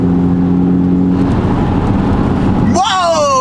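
A car engine with nearly 129,000 miles on it idles with a steady low drone, then revs sharply upward near the end, loud and close.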